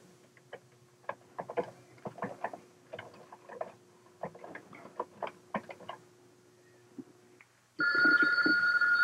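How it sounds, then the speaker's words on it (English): After a stretch of faint ticking and clicking, a telephone bell bursts into loud, continuous ringing close by for the final second. "I'm going to answer the phone, DJ."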